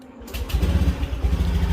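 A red 2018 Honda Scoopy scooter with kick starter fires up and settles into a steady, close putter of idle, its small engine thrumming evenly after a brief quiet start.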